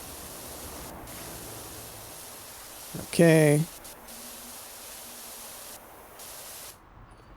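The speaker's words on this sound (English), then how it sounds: "Spray." Pressure washer spraying in the video game PowerWash Simulator 2: a steady, close hiss of water jet running throughout, with a brief spoken word in the middle and the spray cutting off at the end.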